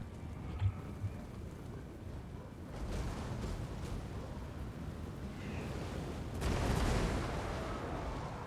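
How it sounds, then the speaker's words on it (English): The hellcannon, a chaos artillery piece in Total War: Warhammer 2, fires amid battle noise, with a couple of small pops early, then a heavy booming blast building into a louder rumbling roar toward the end. "Okay, shoot the hell cannon."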